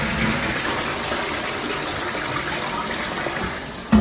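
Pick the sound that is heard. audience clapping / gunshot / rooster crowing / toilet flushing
toilet flushing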